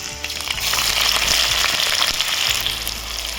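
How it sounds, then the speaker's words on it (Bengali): Onions frying and spattering in hot oil with whole garam masala spices (cardamom, cloves, cinnamon, black peppercorns) for Bengali-style fried rice; a steady loud sizzle with scattered crackles and pops throughout, no talking. "পেঁয়াজ চলে গেছে একদম দেখো চিটি দিচ্ছে সাইড থেকে"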